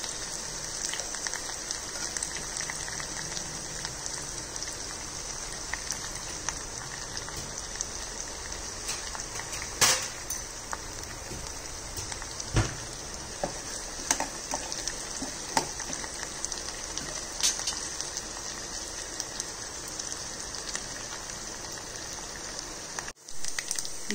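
Green chillies, coriander and curry leaves fry in hot oil for a gongura dal tempering, giving a steady, rain-like crackling hiss with scattered sharper pops throughout.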